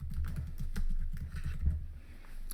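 Typing on a computer keyboard, a quick steady run of soft key taps, close and fairly quiet, with a short pause midway.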